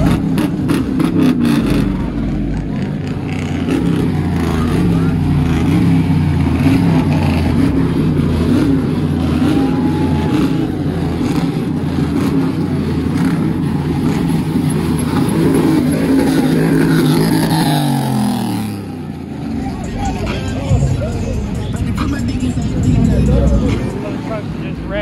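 Car and truck engines at a car show, a loud continuous roar with rising and falling revs that drops away near the end, heard alone without talk.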